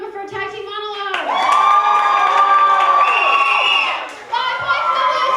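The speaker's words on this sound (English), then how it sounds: "applaud now if you prefer tag team monologue." A live comedy-match crowd erupts in cheering, shouts and clapping after a host's prompt, holding loud for a couple of seconds and then tapering off as the host resumes talking.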